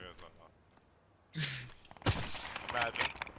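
Gunfire in the video game Call of Duty Warzone: a quiet stretch, then a short burst followed by a louder run of rapid shots and impacts, heard close and sharp.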